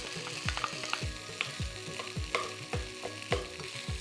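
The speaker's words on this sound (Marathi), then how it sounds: "छान अशी परतून घ्यायची भाजी." Mashed potato with green masala being sautéed in a pan, a steady sizzle under repeated rhythmic scraping strokes of a spatula, roughly two per second, close and moderately loud.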